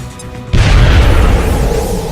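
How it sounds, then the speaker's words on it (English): A grenade in the video game XCOM: Enemy Within: a sudden loud boom bursts after a brief quiet moment, followed by a sustained rumbling roar that slowly fades. "I'm gonna have to use the grenade here."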